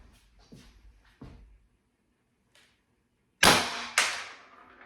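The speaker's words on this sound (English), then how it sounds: "This is the last shot, 8th shot." A Beeman BP.50 air pistol fitted with an extended barrel fires with a sharp, close crack, quickly followed by a second hard snap, after softer mechanical clicks and handling noises.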